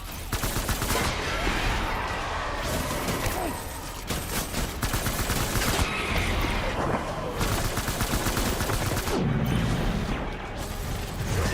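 Gunfire in the video game Death Stranding rattles almost without pause, with dense automatic bursts, mechanical clatter and overlapping shots during a loud firefight, along with brief shouted voices.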